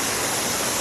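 Katiki waterfall on the route to Araku pours in a steady, dense roar of rushing water, close and unbroken, with no voices.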